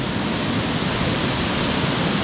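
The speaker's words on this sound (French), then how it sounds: "on voit peut-être mieux la cascade ici" Dense, steady roar of rushing water fills everything, a constant hiss with no breaks, as from a waterfall nearby.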